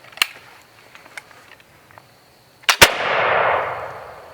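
A musket is cocked with a few small clicks, then fires in a sharp, loud double crack close by, followed by a long rushing roar that slowly fades.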